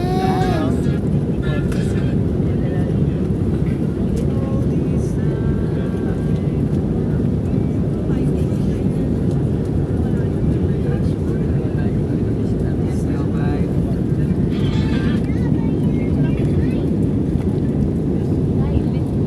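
Helicopter flying over Boracay island, a loud steady rotor-and-engine roar mixed with wind buffeting on the microphone, constant throughout with voices talking over it.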